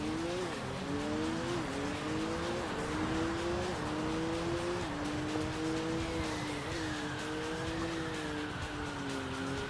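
A 2,000-horsepower Bugatti Veyron races in Sega GT 2002, its engine note climbing and dropping through gear changes in a continuous high whine, with a brief tire squeal and no speech.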